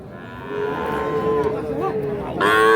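A small calf at the weekly Ambari cattle market in Parbatipur, Dinajpur, gives one long, loud, close moo that rises at the end, with no talk over it.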